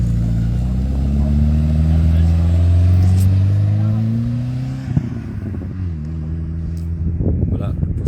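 A Porsche 924 Turbo rally car pulls away at the start of a special stage at the Rallye Coeur de Lion, a loud deep rising engine rumble that fades as it leaves, with a voice briefly heard.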